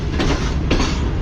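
The Tezgam train pulls into the main platform at Khanewal Junction with a loud, dense rumble of carriages and rhythmic clacking of wheels over the rails. The noise is close, steady and continuous, with no voices.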